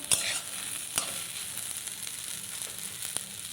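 Food fries with chillies in a pan, a steady close sizzle running throughout, punctuated by a few sharp clicks of a utensil against the pan.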